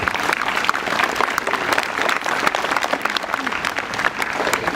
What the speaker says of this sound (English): a big round of applause for him as well